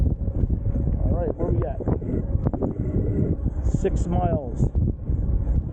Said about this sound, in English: It's windy, right? Very windy.